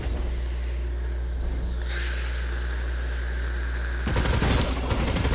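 Rapid, continuous automatic gunfire from an exotic weapon in Destiny 2: The Witch Queen cutting down small enemies, a loud steady stream that thickens into a harsher, denser burst near the end over constant engine-like hum.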